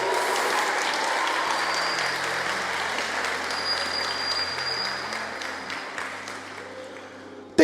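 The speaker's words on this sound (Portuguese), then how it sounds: "Se é para Deus, aplaude pelo amor de Jesus Cristo." A church congregation applauds in steady, dense clapping that fills the room, holding at an even level for several seconds before gradually thinning out toward the end.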